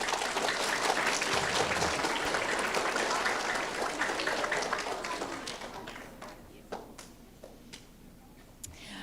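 Third-grade children at a school awards assembly clap together in a dense burst that gradually fades to a few scattered claps, with faint voices in the room.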